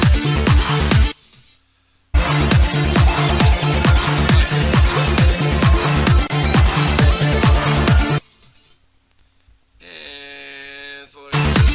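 Psytrance track with a loud driving four-on-the-floor kick and dense synth layers that drop out twice, leaving a sparse filtered breakdown with a pulsing synth before the full beat returns.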